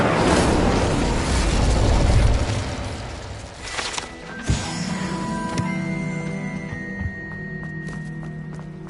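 An Incendio fire spell cast in Hogwarts Legacy opens with a loud roaring whoosh, followed by a thud and ringing magical tones that fade out.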